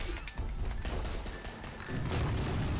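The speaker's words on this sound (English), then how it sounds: "tons of explosions" Explosions in the Switch action game Mr. Shifty: a dense, continuous barrage of booms and crashes that swells louder near the end, with no talking.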